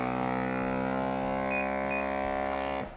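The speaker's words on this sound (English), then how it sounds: "Do not open the lid until you hear the beep." A FORJARS vacuum sealer finishing a jar seal gives off a steady electronic tone with a few short higher beeps laid over it, then cuts off sharply near the end, with no talk.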